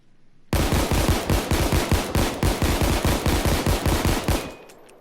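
Rapid automatic-style bursts from an M1911 Crosskill pistol in Payday 2, roughly twenty loud sharp shots in steady quick succession, ending with a brief mechanical click and fading tail.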